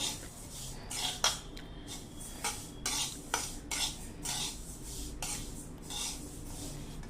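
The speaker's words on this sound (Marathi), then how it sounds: "फक्त जवस आणि तीळ हे दोनच फक्त मी भाजून घेणार आहे" Flax and sesame seeds roast in a pan while a utensil stirs them, producing repeated scraping strokes and light rattles over a soft sizzle at a steady, unhurried rhythm.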